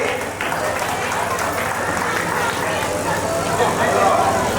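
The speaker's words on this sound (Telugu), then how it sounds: "చప్పట్లు కొడదామండి" An audience at an indoor stage function applauds, a dense, continuous wash of clapping from many hands that holds steady for the whole stretch and swells slightly toward the end.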